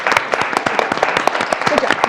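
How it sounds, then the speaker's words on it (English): An audience applauds panelists at the end of a University of Utah event, with dense rapid clapping that stays loud and steady throughout and has some individual claps standing out close by. "let's just give a final round of applause to our panelists for being here today"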